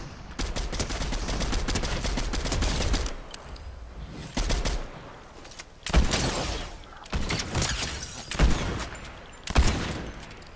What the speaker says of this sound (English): More gunfire.